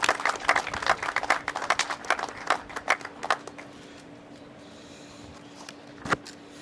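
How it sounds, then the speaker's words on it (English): An audience applauds the mayor at a COVID-19 update press briefing, scattered close handclaps over the first few seconds that thin out and fade to quiet room tone, with one last clap near the end. "he deserves another round of applause for the job that he's done as well"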